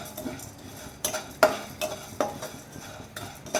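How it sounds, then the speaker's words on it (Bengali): Semai vermicelli fries in a pan while a utensil stirs and scrapes it in irregular strokes, sharp scraping hits standing above a soft sizzle, close and fairly quiet, with no voices. "সেমুইটা আমি ভালো করে ভেজে নেব।"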